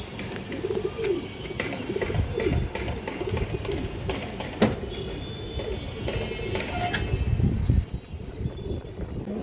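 Pigeons coo repeatedly in soft, low throaty phrases, close by, with scattered rustling and a few sharper knocks in between.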